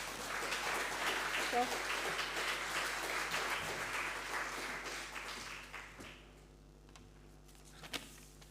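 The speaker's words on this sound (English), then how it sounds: "give him a round of applause" Audience applause fills an opening ceremony, a dense, steady clapping that carries for about six seconds before thinning out to a few scattered claps and quiet room noise.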